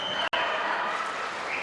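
Crowd of team supporters cheering at a youth judo match at the European Youth Olympic Festival in Tbilisi, a steady dense roar with a commentator talking over it.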